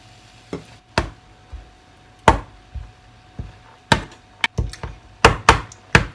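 Shrimp being tipped into a pan and stirred, heard as a series of sharp, loud knocks and scrapes of a utensil against the pan at irregular intervals, with no voice.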